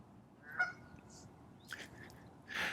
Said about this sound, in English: The geese are talking.